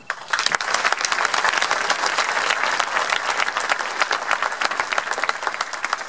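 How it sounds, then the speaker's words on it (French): An audience at the Charente-Maritime prefect's New Year ceremony with the community of communes applauds warmly; dense, close clapping starts abruptly and stays steady and loud for several seconds. "Donc je vais vous demander de les applaudir."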